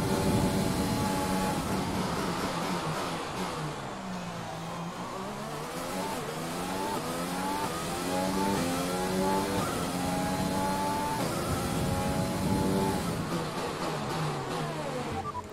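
Formula 1 race car engine from the F1 2020 game on a flying qualifying lap at the Vietnam Grand Prix, a loud continuous high-revving whine rising and falling through gear changes for the whole stretch, with no talk.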